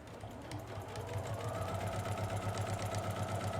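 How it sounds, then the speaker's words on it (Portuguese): A sewing machine stitches a seam on a double pencil case, starting quietly and settling into a fast, steady mechanical hum with a regular rapid needle rhythm, close and without talk. "Eu vou entrar com a máquina de novo e vou trazer essa costura bem retinha aqui"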